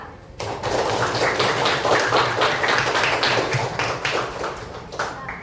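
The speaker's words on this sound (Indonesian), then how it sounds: "tepuk masyarakat" A classroom of high school students claps in a rhythmic group pattern, dense and loud, with many hands close together and steady beats lasting several seconds.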